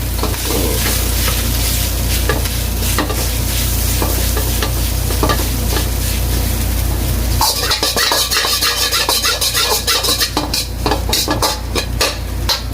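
Nasi goreng fried rice is stirred in a frying pan, with loud, close sizzling under rapid scraping and clinks of a utensil against the pan, growing busier in the second half.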